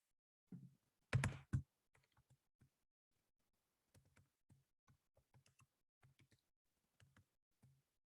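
Computer keyboard keys tapped in short scattered bursts while database credentials are entered, starting with a louder cluster of clicks and then lighter, spaced keystrokes, close and alone with no talk.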